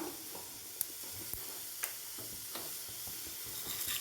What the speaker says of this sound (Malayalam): എണ്ണ ചൂടായി വന്നിട്ടുണ്ട് കടുകിട്ട് കൊടുക്കാം